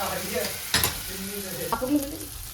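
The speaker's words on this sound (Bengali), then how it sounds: "এটাই 5 মিনিট ভাজবো" Meat and spice masala frying in a pan, a low sizzle with a couple of sharper scraping stir strokes, close and moderately quiet.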